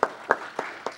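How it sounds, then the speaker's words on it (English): A few scattered hand claps at a city council meeting in Gardena, four separate sharp claps spaced roughly evenly apart, light and thin rather than a full round of applause. "Give him an applause."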